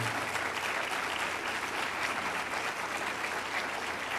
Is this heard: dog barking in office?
no